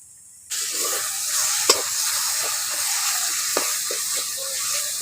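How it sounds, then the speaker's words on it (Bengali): Water is splashed into a hot frying pan of soybean curry and bursts into a loud, steady sizzle and hiss that carries on, with a few faint clinks of a spoon stirring through it. "অল্প একটু জল দিয়ে দিচ্ছি"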